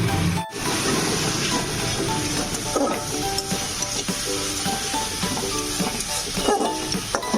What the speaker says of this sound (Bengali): নিয়ে লো ফ্লেমে এটাকে এখন আমরা খুব ভালোভাবে কষিয়ে নেব।